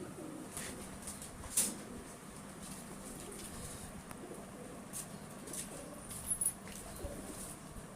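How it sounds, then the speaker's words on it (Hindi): Breeder pigeons kept in a loft coo softly and intermittently, with faint low murmurs and a few small sharp sounds over a quiet ambient background, no speech. "ये बाऊ हसन साहब वाले कबूतर है जी"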